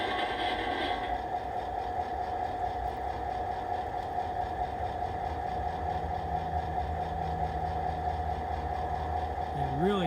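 N scale DCC model train sound decoder playing a steady idling diesel engine hum with a hissing air brake release, a continuous close mechanical drone running the whole time.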